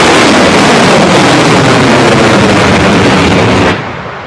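SpaceX Dragon V2 pad abort test: the rocket engines roar at liftoff as a loud, continuous, broadband blast that fills the whole clip, then eases off slightly near the end.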